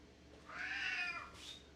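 An elderly house cat with dementia lets out a single drawn-out, strained meow, faint and close in a quiet kitchen, ending with a brief higher squeak.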